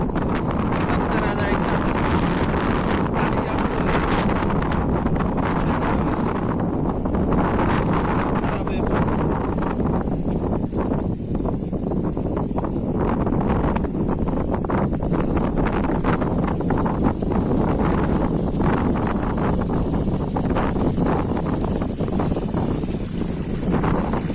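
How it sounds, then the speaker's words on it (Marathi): Strong wind gusts buffet the microphone across open rice paddies on a farm after night rain, a continuous loud roaring rush with no clear pauses and no speech. "वाऱ्याचा तर आवाज येत असेल तुम्हाला"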